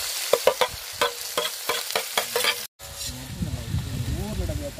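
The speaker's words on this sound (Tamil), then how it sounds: "வெங்காயம் வதங்கிட்டு இருக்கு." Chopped onions sizzle and fry in hot oil for a mutton gravy, with scraping stirs and clatter of a utensil against the pan, fairly close.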